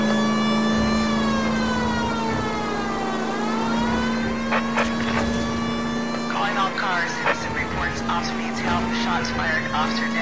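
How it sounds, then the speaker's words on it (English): A police car siren wails in the video game L.A. Noire, holding a steady rising and falling tone over engine noise while someone talks partway through. "Turn on that siren."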